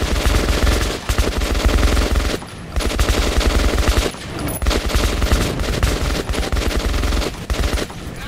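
Continuous loud automatic gunfire in the video game Metro 2033 Redux, dense rapid bursts with brief dips, close and overwhelming.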